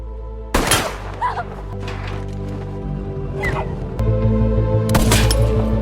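Gunfire in a video game: loud, sharp bursts stand out against a steady low background drone, with a couple more reports near the end.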